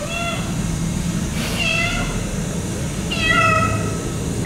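A playful, affectionate shelter cat meows about three times, each call clear and close, with steady low background noise between the cries.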